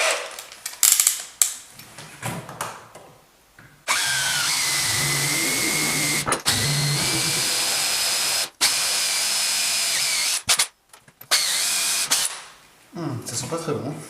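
An electric drill bores a 6.5 mm hole into oak for a tripod, running close and loud in several sustained bursts separated by brief pauses, with some quieter handling sounds around them.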